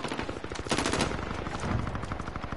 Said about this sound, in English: Three-way shootout.